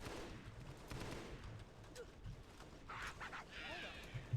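Rapid bursts of gunfire from the Halo SPV 3 video game, a busy fusillade of shots layered over a steady battle din, fairly quiet overall with a sharper hit near the end.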